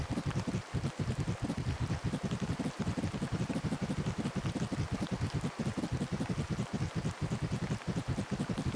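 Rainy breeze ambience in the video game Horticular: a dense, continuous patter of rain with soft gusty wind, steady and fairly loud throughout, no voices present.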